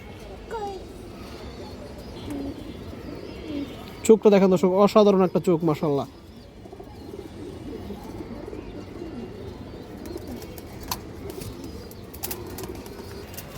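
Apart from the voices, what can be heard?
pigeon cooing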